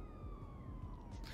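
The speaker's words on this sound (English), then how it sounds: "I can hear sirens." Police sirens wail in the video game GTA V, with steady falling and rising siren tones sweeping continuously over a low rumble for a short stretch.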